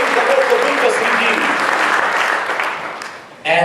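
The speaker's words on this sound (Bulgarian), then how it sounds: "Let's give him a big hand." A church congregation applauding, a dense sustained wash of clapping that holds steady and then fades slightly before a sudden louder burst at the end.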